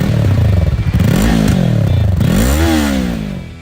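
A Yamaha MT-03 321 motorcycle engine revs up and down in loud rising and falling sweeps, close by, with a rough pulsing tone throughout and the sound easing slightly at the end.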